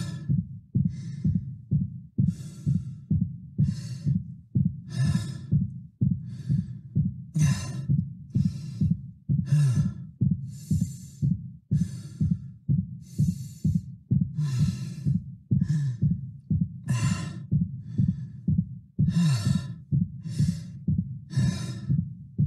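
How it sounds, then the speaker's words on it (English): Isaac's fatigued, exerted breathing in Dead Space Remake, a steady loop of heavy rhythmic breaths over a thumping heartbeat, close and loud throughout with no other sounds. "you'll start to hear fatigued breaths, exerted breaths, start to mix in with his regular base breathing rate"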